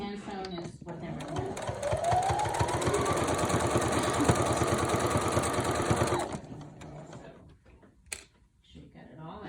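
Sewing machine stitching a fleece blanket, a rapid even mechanical whirring chatter running about six seconds before stopping, followed by quiet handling noises.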